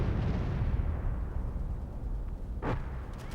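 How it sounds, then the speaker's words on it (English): Dense, continuous low rumble of a WW2 artillery barrage from massed 25-pounder guns, a steady roar of distant overlapping booms with one sharper crack near the end, no voices. "When the attack began, a total of 300 25-pound guns unleashed their shells on the narrow strip of front line."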